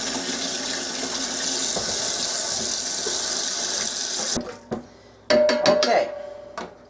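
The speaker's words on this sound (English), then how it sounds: "I'm just going to work on putting them in some nice cold water" Cold tap water gushes steadily over freshly cooked beets being cooled for pickled-beet canning, then cuts off, leaving a few sharp clinks and knocks in a quieter kitchen.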